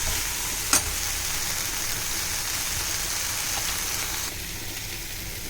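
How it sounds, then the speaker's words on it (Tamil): Turkey berries and small shallots sauté in sesame oil in a pan, a steady loud sizzle with one sharp clink of a utensil early on and a slight drop in level near the end. "நல்லா இந்த நல்லெண்ணெய் வந்து சுண்டைக்காய், சின்ன வெங்காயம் எல்லாம் வதங்கிடுச்சு."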